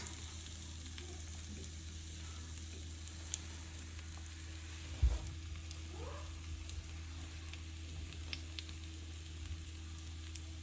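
Homemade snack pieces fry in a pan with a steady, even sizzle and hiss, broken by one soft clunk partway through; no one speaks.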